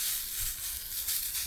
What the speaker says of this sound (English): they are frying quite a bit